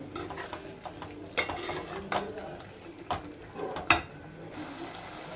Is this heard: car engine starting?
no